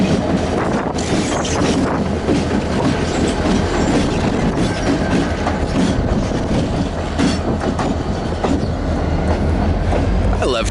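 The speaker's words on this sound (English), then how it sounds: "I love trains." A train passes close by with a constant rumble and rhythmic clickety-clack of wheels on rails, loud and unbroken throughout.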